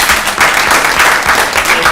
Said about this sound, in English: one big round of applause for everybody here